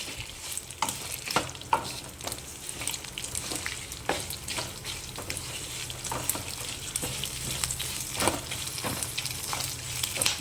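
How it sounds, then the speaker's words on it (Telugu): Cut chilies fry in hot oil with a continuous sizzle punctuated by frequent sharp pops and crackles, close up, alongside occasional stirring and no voices. "చూడండి ముక్కలు చేసినా కూడా పేలుతున్నాయి మిరపకాయలు"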